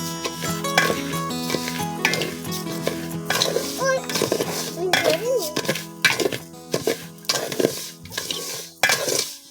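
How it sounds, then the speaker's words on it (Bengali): Rice lightly frying in oil in a pot for milk pulao, with a spoon repeatedly scraping and clanking against the metal pot over a faint sizzle, close by, while a person talks throughout. "এই চালটাকে ভালোভাবে একটু হালকা গরম করে নিই মানে ভেজে নিতেছি হালকা"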